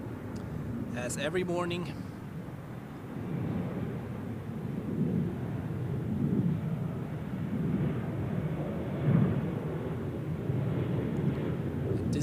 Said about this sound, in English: And here we have Elal arriving from Tel Aviv.